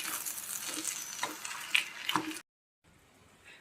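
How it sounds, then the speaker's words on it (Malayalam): A spoon stirs and presses mashed tapioca (kappa) into sautéed onions in a pan, soft scraping and clicking taps over a light sizzle, close up, cutting off abruptly to near silence before a faint hiss returns. "കപ്പ നന്നായി ഇളക്കി യോജിപ്പിക്കുകയാണ്."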